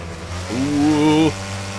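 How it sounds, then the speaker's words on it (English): A car engine in the racing video game Wreckfest over-revs in a short, steady whine that rises and holds for under a second, then drops back to a lower hum. "I end up over-revving the engine a bunch"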